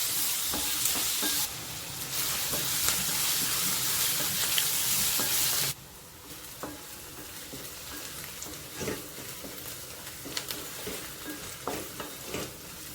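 Onions frying in oil in a pan for a dry jackfruit vegetable dish, a steady close sizzle with scraping stirs throughout, loud at first and then quieter and more crackly.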